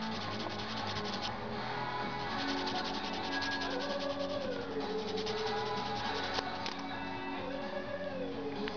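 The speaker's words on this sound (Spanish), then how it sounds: "este lado lo vamos a hacer con lija de 80" Steady close-up rubbing and scraping of 80-grit sandpaper on a plastic model kit piece, continuous back-and-forth strokes, with faint background music.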